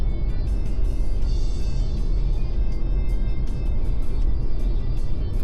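A modern car rolls slowly across the Millau Viaduct on autopilot, giving a constant low road rumble and tire hum with faint scattered ticks above it.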